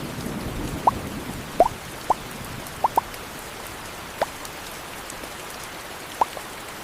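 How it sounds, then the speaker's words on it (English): Light rain begins falling outdoors: a soft, continuous hiss with scattered distinct drops pattering nearby every second or so. "It's starting to rain."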